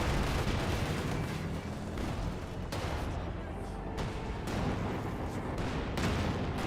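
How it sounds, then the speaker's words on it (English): Artillery fire from a D-3485 field gun in Company of Heroes 2, a dense battlefield bed of repeated booming shots and crackling gunfire with sharp reports at irregular intervals, under a commentator's voice. "D-3485 firing away."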